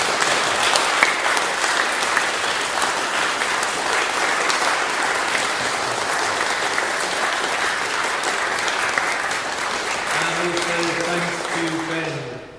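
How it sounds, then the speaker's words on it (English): An audience at a literary society session on the poet R S Thomas gives a full, steady round of applause lasting about twelve seconds, dense and even before tapering off at the very end. "Raucous round of applause, please."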